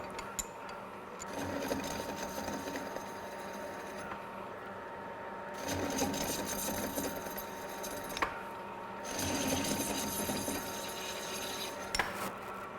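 A metal lathe takes a slow, well-lubricated threading scratch pass on a worn drive hub using the top slide, giving a steady mechanical whir with thin metallic scraping in several long bursts separated by quieter gaps.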